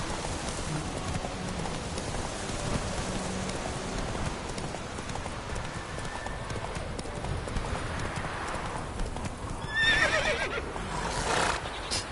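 A horse in the video game Witcher 3 trots with steady clip-clop hooves in the rain, a soft patter underneath, then gives a loud whinny near the end.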